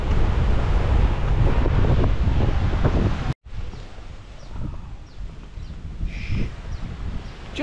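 Strong wind batters the microphone on Had Rin Beach on Koh Pha Ngan, a loud, constant roar with surf underneath; it cuts out briefly, then returns as a lighter, gusty rush.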